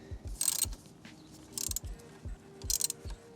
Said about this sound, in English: we'll take our 8mm nut again and just put it back in here